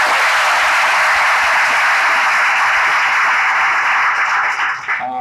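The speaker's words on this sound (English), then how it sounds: "So another round of applause for Dr." Sustained audience applause at a children's health conference, full and steady before thinning slightly in the final second, with no speech over it.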